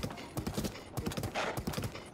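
Horse hooves clip-clop in a steady rhythm across the ground in the video game Tears of the Kingdom, close and moderately loud with no speech over them.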